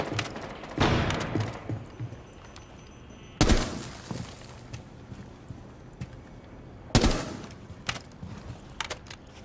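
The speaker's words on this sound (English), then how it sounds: "Flashbang." A flashbang grenade goes off inside Rainbow Six Siege, landing as sharp loud bursts among scattered gunfire and clattering game sounds, with two big blasts spaced a few seconds apart.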